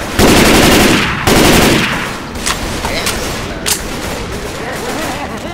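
Shotgun blasts and bursts of automatic gunfire ring out in the zombie shooter Left 4 Dead 2, loud and close, with two heavy sustained volleys followed by scattered sharper shots and game effects.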